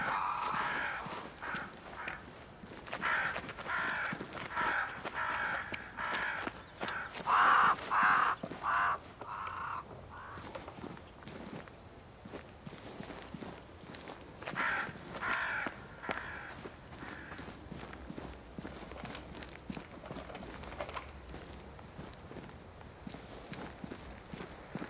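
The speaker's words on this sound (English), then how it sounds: "Crows. They flock to that great tree up there." Crows caw repeatedly in the video game Banishers: Ghosts of New Eden, several bursts of harsh calls at moderate distance over a steady ambient background with occasional footsteps or hoof-like clopping.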